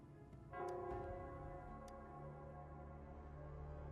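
A single bell rings out in the Nell Square in Wuthering Waves, one clear strike followed by a long, sustained humming tone that fades slowly beneath a low ambient background.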